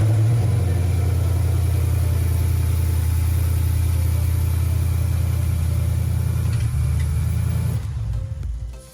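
A rebuilt Ford Mustang GT V8 engine runs steadily with a deep, loud, continuous rumble and fine mechanical ticking, holding a constant idle before cutting off near the end.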